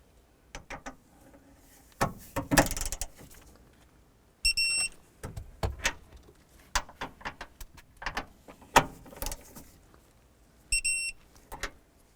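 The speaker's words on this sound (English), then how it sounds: "we can go ahead and torque these nuts down to 41 foot-pounds" A torque wrench tightens the right rear strut nuts on a 2008-2012 Honda Accord to 41 foot-pounds: sharp metallic clicks and ratcheting taps, punctuated by two short bursts of high electronic beeping, close by with no talk.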